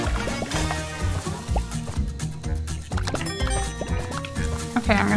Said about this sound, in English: Okay, I'm gonna continue washing.